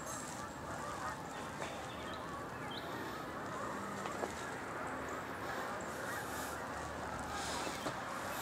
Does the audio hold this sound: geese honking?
yes